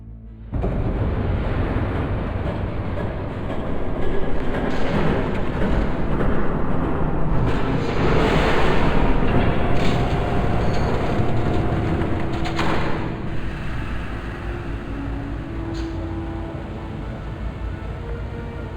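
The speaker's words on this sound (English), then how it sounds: "There's a train coming." A train passes in Batman: The Telltale Series, a loud, sustained roar and rumble that swells and holds for nearly twenty seconds before easing slightly, with no voices over it.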